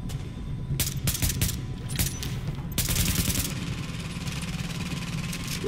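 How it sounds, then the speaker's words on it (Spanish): An automated machine gun fires in the video game Tom Clancy's The Division, sending several rapid bursts of gunfire over a steady engine-like hum, close and fairly loud, with no voices. "ahí me ayudó la ametralladora, le tiró y lo mató"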